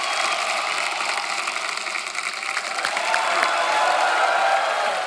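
Studio audience on a television comedy show bursting into loud, dense applause and cheering that holds steady and swells slightly, filling the room with continuous crowd noise.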